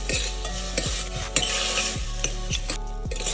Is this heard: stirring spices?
yes